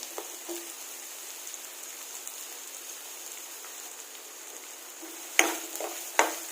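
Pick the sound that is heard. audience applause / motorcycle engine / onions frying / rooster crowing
onions frying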